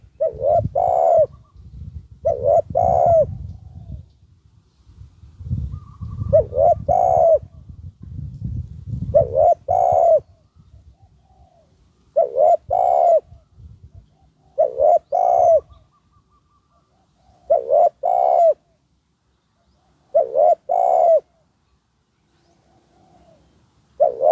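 Repeated coos of a spotted dove, a trained decoy bird, in soft paired phrases at steady intervals, fairly close and clear, with light rustling noise under the first half.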